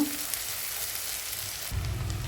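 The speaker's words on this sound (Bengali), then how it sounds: "এখন পেঁয়াজ আর রসুনগুলা একটু ভেজে নেব যাতে পেঁয়াজের ভিতর থেকে পেঁয়াজ রসুনের যে কাঁচা একটা ঘন থাকে সেটা চলে যায়" Onions and garlic frying in mustard oil, a continuous hissing sizzle that swells louder with a rougher stir near the end, close up and alone.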